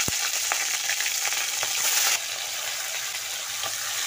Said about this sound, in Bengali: কড়াইতে মাছ দিয়ে দেব।